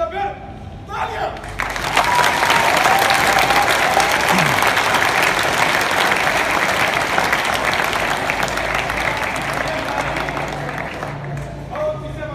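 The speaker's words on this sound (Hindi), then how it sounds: "अगर अच्छा लगे तो फिर तालियां" A school audience at a magician's show in a municipal school bursts into loud, sustained applause and crowd noise that carries on for several seconds before tapering off, with voices briefly heard at the start and end.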